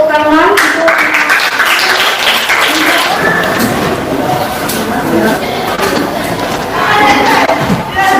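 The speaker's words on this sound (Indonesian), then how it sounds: "Jadi kita berikan tepuk tangan untuk" Classroom applause during a school lesson, a steady wash of clapping from a group of students lasting several seconds, with teacher talk and bits of voice mixed in over it.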